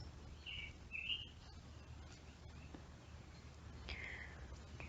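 Birds chirp outdoors near a garden: a few bright, short tweets come in small bursts, fairly faint over a low steady background rumble, with quiet gaps between calls.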